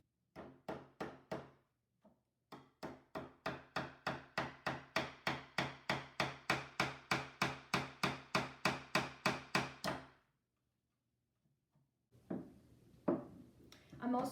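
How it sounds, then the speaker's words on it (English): Steady hammer blows strike a nail, about two dozen sharp taps in a quick even rhythm, close and loud, followed by quiet and faint rustling. "I'm going to tap it in with the hammer."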